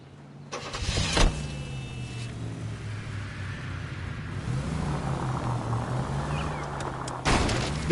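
A car engine in the L.A. Noire video game turns over with a sharp start and settles into a steady, close idle hum that runs throughout, with no voices over it.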